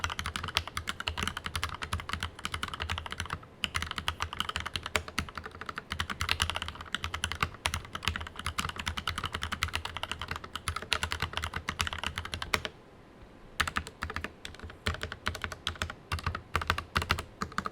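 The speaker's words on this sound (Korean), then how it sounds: "타건 한번 들어보시죠." Steady, rapid typing on a Ducky mechanical keyboard fitted with factory-lubricated Gateron crystal switches, dense close-up keystrokes running almost continuously with a short pause near the end, no voices.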